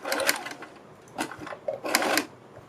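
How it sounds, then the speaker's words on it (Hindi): A sewing machine stitches a neck strip on a kurti in three short runs of quick rhythmic needle clatter, each broken by brief pauses, close and fairly loud. "इसके ऊपर हम सिलाई लगाते हैं"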